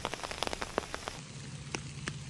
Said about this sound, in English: It's been raining for like an hour.